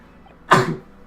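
A single sneeze from a character in The Great Ace Attorney video game: one short, close, breathy burst in the middle of otherwise quiet game audio, with no speech.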